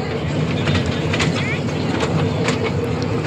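A ride-on toy train circling a fairground at the Kaliakair industrial products and trade fair, with a steady rumbling run and crowd noise throughout, under nearby talk.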